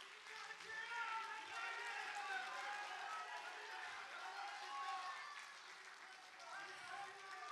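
An audience at a party candidate joint speech event for Gunsan mayor gives encouraging applause, a fairly faint, steady spread of clapping from a distance with some voices mixed in.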